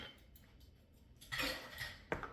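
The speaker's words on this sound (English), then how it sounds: "we're going to put the eggs in here" Eggs go into a mixing bowl for a pumpkin pie filling, heard as a couple of close, brief knocks and bowl clatter with a soft splat in a quiet kitchen.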